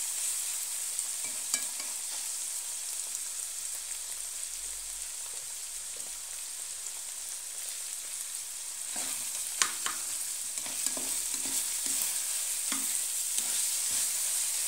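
Lots of vegetables, with broccoli added last, sizzle and fry steadily in a hot pan while a utensil stirs and scrapes through them, producing close, irregular clatters over a constant hiss, and nobody speaks.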